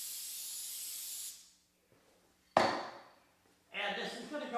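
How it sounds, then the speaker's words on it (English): Spray adhesive for t-shirt printing hissing out of an aerosol can in a long steady burst, followed by a sharp brief spray and then another short hissing spurt, close and fairly loud. "we're going to spray a little more adhesive"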